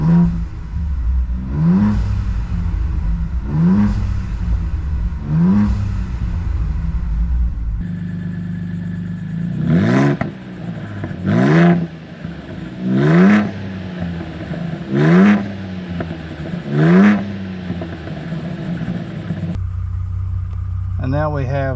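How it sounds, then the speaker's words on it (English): A Ford Bronco Raptor in sport mode, fitted with SPD downpipes and a Turbosmart blow-off valve, is revved in a string of loud, close throttle blips. Each rising roar falls away quickly, with the valve's sharp release in between. "Now we've got sport mode with the SPD downpipes and the Jesse Cats, and again you're going to hear that Turbo Smart blow-off valve"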